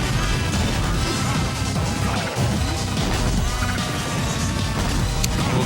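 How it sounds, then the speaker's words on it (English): Samus firing missiles in a Super Smash Bros match against Wario, heard as a dense, continuous wall of loud game effects with crashing hits and impacts throughout. "We'll continue to shoot these missiles."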